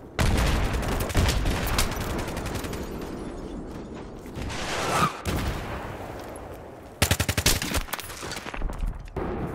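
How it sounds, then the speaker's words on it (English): Heavy Battlefield 3 gunfire strafes a rooftop, long automatic bursts rattling off with sharp repeated cracks, a brief lull, then a fresh hammering volley near the close. "I'm gonna keep strafing the roof at Delta."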